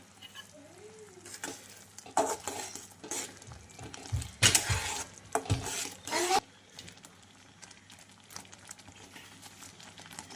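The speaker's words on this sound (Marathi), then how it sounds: "यामध्ये आपल्याला घालायचं आहे भाजलेला रवा आणि छान असं फिरून घ्यायचं आहे" Roasted semolina being stirred in a pan while making shira, giving scraping, clattering spoon strokes in bursts over a faint background hum, without any talking.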